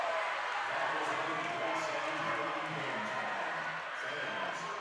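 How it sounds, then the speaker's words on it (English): Spectators at a WIAA playoff volleyball match, Chippewa Falls against Hudson, keep up a steady roar of cheering and crowd noise throughout, with a commentator talking over it. "The crowd is electric right now on their feet."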